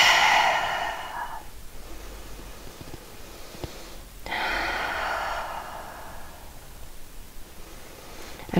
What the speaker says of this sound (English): Couple more breaths here.